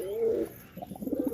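Pigeons cooing close by, a low drawn-out coo followed by a quick run of soft pulsed coos.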